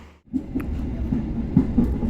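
A Pasundan economy-class passenger train rolls along and passes another train, giving a steady low rumble with occasional clanks and knocks close by, and no talk.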